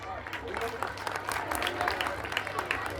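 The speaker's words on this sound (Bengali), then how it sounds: "সবার জন্য একটু হাততালি।" An audience claps for prize winners at a school annual cultural day sports prize giving, a dense, continuous patter of applause with voices mixed in beneath it.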